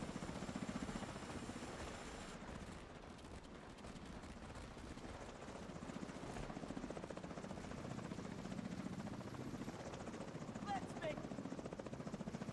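A helicopter in the video game Division 2 drops off True Sons enemies, its rotor chopping in a steady, dense pulse that stays fairly constant throughout, with faint game effects beneath and no talk.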